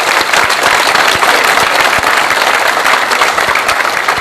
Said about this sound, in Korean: 박수로서 응원해 주시면 고맙겠습니다